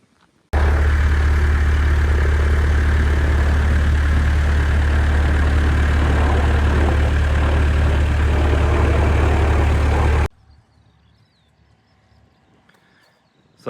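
An old Nash tractor engine runs loud and steady for about ten seconds, a constant low idle-like drone with heavy bass, then cuts off abruptly, leaving quiet background.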